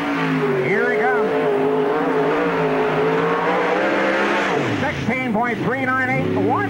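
Black number 12 race car lapping a speedway at a summer nationals event, engine howling loud with rising and falling revs through the turns, under continuous announcer commentary.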